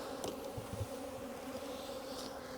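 Honeybees buzz steadily around a hive during early-season colony splits, a continuous low droning swarm with a few brief louder passes close by.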